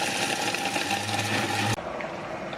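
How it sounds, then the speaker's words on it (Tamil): An electric kitchen mixer grinder whirs steadily while powdering cooled roasted spices for temple-style tamarind rice, a loud continuous motor drone that cuts off abruptly near the end, leaving a quieter room hum. "கம்ப்ளீட்டாக கூல் ஆனவுடனே நான் ஒரு மிக்சியில் போட்டு பவுடர் பண்ணி எடுத்துட போகிறேன்"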